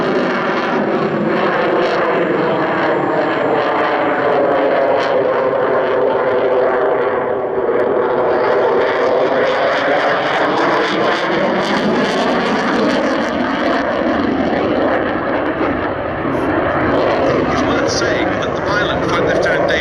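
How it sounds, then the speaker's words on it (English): A Eurofighter Typhoon with EJ200 engines climbing straight up at the Duxford air show, a loud sustained jet roar with sweeping pitch shifts as it passes, under a commentator's voice. "Such is the power of the EJ200s. The aircraft accelerates straight into the vertical."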